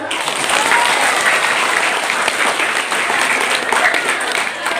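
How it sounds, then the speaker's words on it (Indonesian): Sustained applause from a school audience at a Maulid Nabi celebration in a junior high school, dense steady clapping filling the room without a break. "Boleh tepuk tangan untuk semuanya?"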